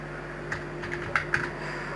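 A computer keyboard gives a few light, scattered keystroke clicks over a soft background hum, close by and fairly quiet.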